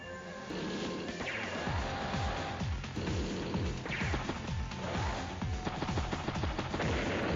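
Units exchange fire in the strategy game Advance Wars: Days of Ruin, with recon, tanks, medium tank, artillery, anti-air and bombers in play; dense, continuous gunfire and repeated thudding shell impacts roll on throughout at steady volume.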